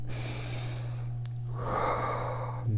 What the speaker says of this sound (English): Breathing is an intentional function of the body where you intentionally breathe in and breathe out in a very intentional way